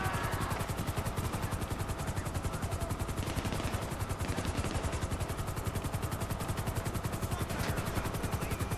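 Helicopter rotor chopping steadily and loudly throughout in GTA 5, with rapid gunfire clatter mixed into the dense, continuous drone.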